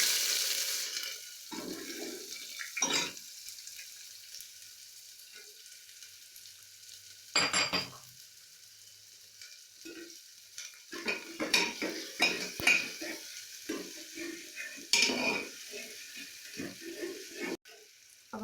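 Onions frying in a pan for tinda curry, sizzling softly while a spoon stirs and scrapes in irregular bursts, with occasional clinks of utensils against the pan.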